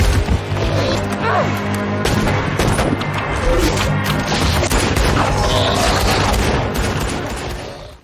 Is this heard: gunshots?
yes